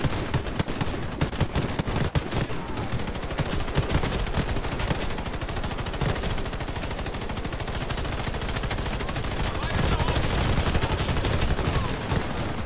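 Rapid automatic gunfire and machine-gun bursts in the shooter game Warface on Nintendo Switch, dense and loud throughout, crackling shots overlapping nearly without pause.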